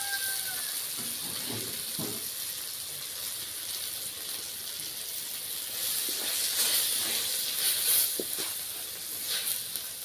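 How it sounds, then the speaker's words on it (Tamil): Turmeric, chili powder and coriander powder sizzling in a hot pan for a spicy tapioca kara kuzhambu, a steady close hiss with a few light clinks and scrapes and no voices. "இப்போ இதையும் சேர்த்து நல்லா வதக்கி வச்சுக்கலாம்"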